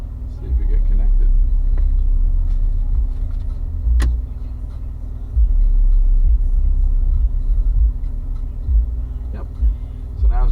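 Steady road rumble from inside a 2015 Corvette on the move, a continuous low drone with occasional bumps and a brief click.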